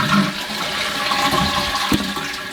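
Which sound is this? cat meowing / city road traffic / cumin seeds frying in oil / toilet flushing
toilet flushing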